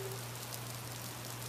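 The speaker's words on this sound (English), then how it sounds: "look at that rain coming down" Steady rain coming down hard, a continuous dense hiss of drops on surfaces with a faint low hum underneath.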